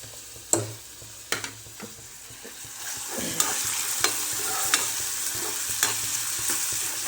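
Onion frying in oil in a pan, a continuous sizzle that grows louder midway, punctuated by sharp clicks and scrapes of a stirring spoon against the pan.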